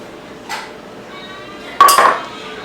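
Sugar being mixed into creamed tea cake batter in a bowl, heard as two brief scraping clinks of a utensil against the bowl, the second louder and longer.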